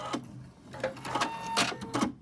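Sewing machine stitching together the layers of a fabric face mask for a flute player, with several short bursts of motor whir and needle clatter between brief pauses, close and moderately loud.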